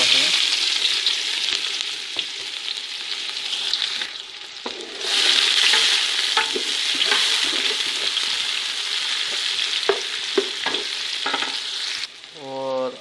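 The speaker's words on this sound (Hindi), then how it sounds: "अब ऑयल हमारा अच्छा खासा गर्म हो गया। इसमें ऐड करेंगे अभी प्याज।" Chopped onions sizzle and fry steadily in hot oil for mutton pulao, with occasional stirring clatter and scraping throughout, fairly loud and close with no talking.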